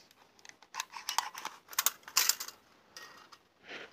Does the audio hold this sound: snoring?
no